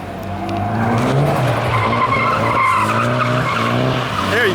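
A BMW E36 drifts close by with its tires skidding and squealing loudly while the engine revs hard. The sound is steady and continuous, and no one speaks.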